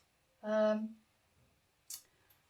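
Scissors cut fabric close by: a squeaky, ringing snip, then a short crisp cut, with quiet around them.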